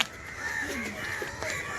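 A crow caws outdoors at a moderate distance, a few hoarse calls over a steady background hum of open air, with no one speaking.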